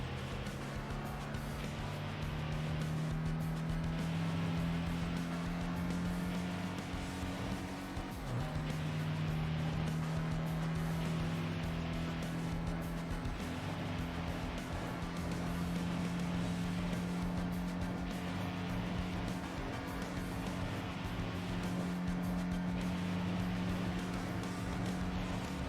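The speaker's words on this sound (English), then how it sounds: "The truck is making an interesting noise" A steady, droning truck engine in the Tokyo Xtreme Racer racing game, a continuous low hum holding one pitch with a brief dip partway through, alone without talk.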